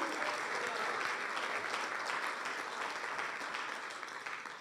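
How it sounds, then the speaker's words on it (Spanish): Steady audience applause at a church conference, a dense wash of clapping from the congregation that holds evenly and fades slightly at the very end. "dele un aplauso y grite aleluya"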